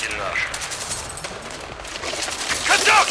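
Distant, crackling battle gunfire from the game Battlefield 2042, set in the town of Gorlitz on the former Poland-Germany border, a dense rumble of shots under a voice that rises near the end.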